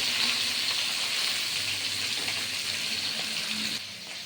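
Fish pieces fry in hot oil for a home fish curry, a steady close hiss and crackle that holds evenly throughout and drops slightly near the end.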